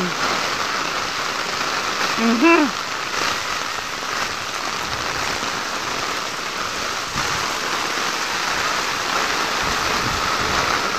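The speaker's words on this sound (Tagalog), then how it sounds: "lakas ang ulan" Heavy rain pours down steadily in a loud, dense hiss, with a brief faint voice early on.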